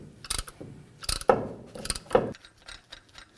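A piston compressor tool pushes back all four brake caliper pistons at once on a 2007-or-later Toyota Tundra front brake, giving a few close, uneven mechanical clicks and grinding strains with short quiet gaps between them.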